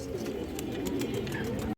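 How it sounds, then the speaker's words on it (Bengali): A silver khaki male pigeon cooing close by in a low, rolling, repeated burble that runs steadily for under two seconds before cutting off abruptly, with no voices. "একটা সিলভার খাকি নর কবুতর অনেক সুন্দর একটা কবুতর"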